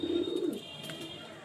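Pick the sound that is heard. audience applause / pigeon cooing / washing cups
pigeon cooing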